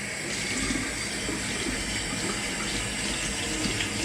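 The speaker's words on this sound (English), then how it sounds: "I'm just gonna rinse my hand off." Tap water runs steadily into a kitchen sink as a hand is rinsed off mid-bake, a close, continuous splashing hiss with no talking over it.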